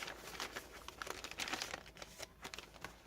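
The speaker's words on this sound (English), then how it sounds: "Sometimes I'll put tracing paper in the middle just to make the noise even better." Tracing paper crinkling inside a handmade junk journal, a close, continuous rustle with sharper crackles as the pages are handled.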